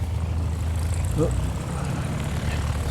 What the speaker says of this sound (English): Some more aircraft movements.